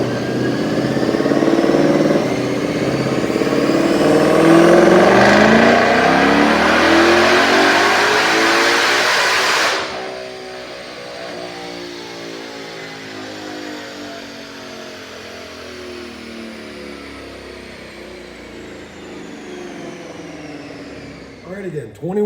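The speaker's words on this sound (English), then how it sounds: "Check out this dyno pull." A 2021 Ford Mustang GT500 with upgraded pulley, cold air intake, injectors and throttle body, running 93 octane on a DynoJet, roars through a long rising full-throttle pull to about 7,700 RPM, then cuts off and winds down.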